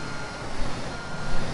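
A concrete truck in Construction Simulator 2 backs up with its reversing alarm beeping steadily over a constant engine rumble, loud and close with no talk.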